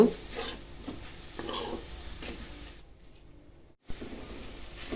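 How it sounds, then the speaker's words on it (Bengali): Dudh puli filling with jaggery is stirred in a pan, producing quiet scraping and soft sticky stirring sounds over a low background, with a brief pause near the end. "এরকমভাবে কিছু সময় নেড়ে চেড়ে আমি পুরটা তৈরি করে নিব"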